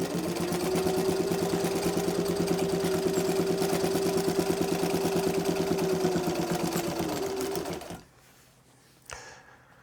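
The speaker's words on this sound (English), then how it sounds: "this old 1950s Singer 1591, I think is the number on it, is such a good sewing machine for this type of thing" A 1950s Singer 1591 sewing machine stitches boat canvas in a fast, even mechanical rhythm for about eight seconds, then stops, followed by a brief clack.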